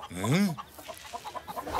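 Hens give a rising-and-falling cluck-like call near the start, followed by softer rhythmic clucks and brief chatter, ending in a sharp burst.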